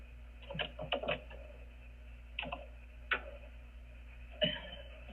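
Sparse, faint keystrokes on a computer keyboard come in small uneven bursts of clicks with pauses between them, against a low steady hum and with no talking.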